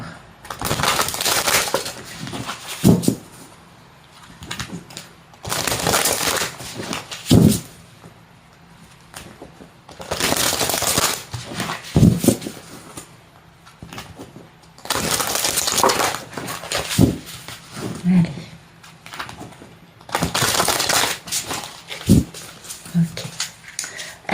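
Tarot cards shuffled by hand for a reading: repeated bursts of papery riffling and flicking, each lasting a couple of seconds and coming roughly every four to five seconds, close to the microphone, with quieter pauses in between.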